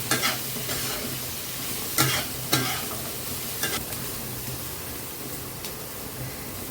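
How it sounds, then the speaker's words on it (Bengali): Rice and lentils fry and are stirred in a pot for a one-pot meal: a steady soft sizzle with a few sharp spoon scrapes against the pot, close and alone without talk. "ভেজে নিব। একটু ভেজে নিলে কাঁচা গন্ধটা থাকবে।"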